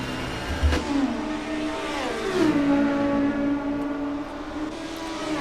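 Touring cars from the 1995 World Touring Car Series race down the straight at Road Atlanta, a loud, steady engine drone whose pitch sweeps down at a gear change and then holds as the cars run flat out.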